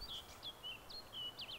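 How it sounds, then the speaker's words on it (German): Birds chirping in the DayZ survival game, a string of faint high tweets and short whistled calls coming in quick irregular bursts over a quiet, slightly noisy background, with no talking. "Man hört nur die Vögelchen zwitschern"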